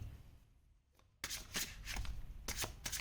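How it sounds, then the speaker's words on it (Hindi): Oracle cards are shuffled and drawn by hand in a quiet room, a few crisp riffling bursts after a silent start, close and fairly faint. "और कार्ड्स निकाल लेते हैं सो दैट हमें पता चले."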